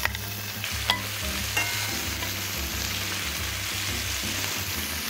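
Denver cut steak cubes searing in a stainless steel pan over high heat, a steady crackling sizzle with a few sharp pops and scraping stirs near the start.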